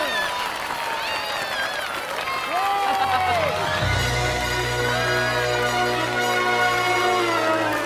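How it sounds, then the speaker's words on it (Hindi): A studio audience applauds and cheers through a sustained burst of clapping, layered with loud music and tonal stings that rise midway and keep playing under it. "तालियां।"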